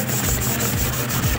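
Fine 1000-grit sandpaper rubbed by hand over a surface being prepped for matte black spray paint, a steady close scratchy rasp with faint rhythmic strokes, no voices.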